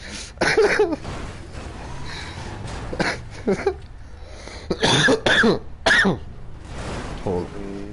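A man coughs several times in short harsh bursts, close and loud, with throat clearing between them, during a GTA 5 Online gaming session.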